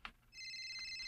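A telephone rings for an incoming call, with a short bright electronic ring tone sounding steadily after a brief soft knock, faint and alone.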